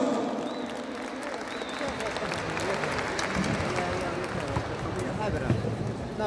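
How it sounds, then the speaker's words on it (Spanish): Applause from a festival audience welcoming a community water board's dance group, a steady wash of clapping and crowd noise with voices mixed in throughout. "Un fuerte aplauso para recibir a la Junta de Agua de Pampa Vintimilla."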